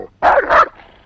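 A small dog gives one short, loud bark, a quick double-yap burst up close, followed by a faint tail of room noise.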